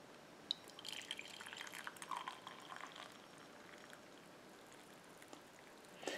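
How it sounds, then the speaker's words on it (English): Tea trickles and splashes softly from an electric glass kettle into a cup, a quiet pour with a few drips, fading to near silence before a final small clink. "Just pour some in there."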